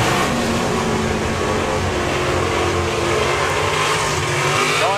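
A drag racing car roars loudly at a drag racing event, a dense, continuous engine howl that stays constant at a distance through the whole clip, with no talking.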